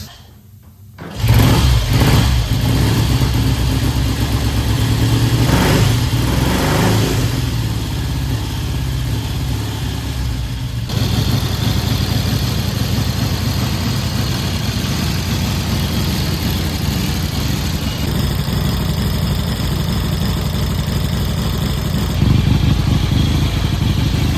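A 1967 Triumph T100C motorcycle engine runs steadily after its first start in decades, starting loud and staying near and continuous, with the tone shifting slightly partway through.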